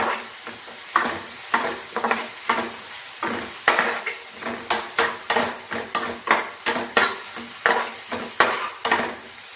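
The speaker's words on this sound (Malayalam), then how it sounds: "ഇനി ഇതെല്ലാം കൂടെ ഒന്ന് നന്നായിട്ട് ഇളക്കാം" Green chilies and ginger frying in a pan for egg bhurji while being stirred, a steady sizzle punctuated by rhythmic scraping strokes of a utensil against the pan roughly every half second, close and fairly loud.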